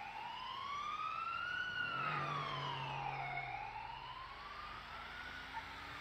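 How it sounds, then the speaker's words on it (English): Emergency vehicle siren in a roleplay driving video game, a wailing tone rising and falling in long sweeps that swells closer then fades slightly, with engine rumble beneath. "Every time I get freaky when I hear a siren coming"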